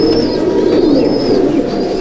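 Pigeons in a loft of Punjabi carrier birds coo steadily and close by, a continuous low murmur of overlapping calls with a faint higher chirp drifting above it.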